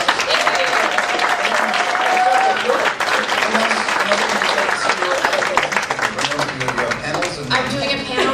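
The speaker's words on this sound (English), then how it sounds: "Everyone give a round of applause." A convention panel audience at CoreCon 2012 gives sustained applause, clapping steadily for several seconds with scattered voices and a brief whistle over the crowd.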